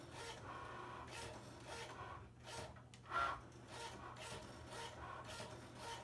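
A Cricut Maker cutting felt gives a steady, faint mechanical whir with soft rubbing and scraping, plus a brief louder rasp partway through.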